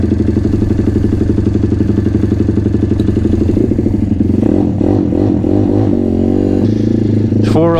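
An M2R RF160 Chinese pit bike engine idles and warms up, a steady close putter with a rhythmic low thrum, then shifts pitch with clattering and a brief rising rev near the end; a voice is partly heard over it.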